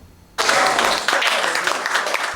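A crowd breaks into sudden, sustained applause at an agricultural equipment handover ceremony for decentralised financial services. The clapping is loud and dense and continues steadily after an abrupt start.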